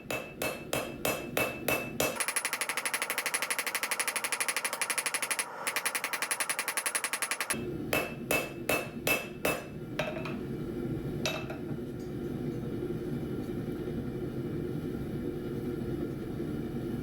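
Blacksmith hammering round stock on an anvil to draw it out, rapid runs of sharp metallic ringing strikes, then a long stretch of fast power-hammer pounding, followed by more hand blows and a few scattered taps.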